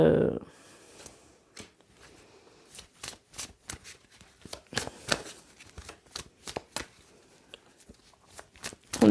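Tarot cards being shuffled and dealt in a run of crisp, irregular flicks and snaps, close and fairly quiet, with a brief burst of speech at the start and end.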